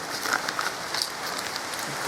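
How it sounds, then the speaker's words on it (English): Heavy rain falls steadily outdoors as a dense, even hiss of drops with no breaks, continuing throughout at moderate loudness, with a faint stir of movement near the end. "really raining heavily out there"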